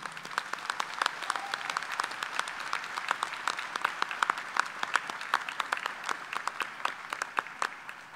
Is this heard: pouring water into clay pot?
no